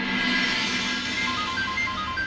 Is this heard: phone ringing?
yes